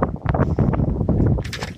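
Wind gusting across an outdoor microphone, a close, loud, buffeting rumble with irregular thumps and a brief hiss toward the end.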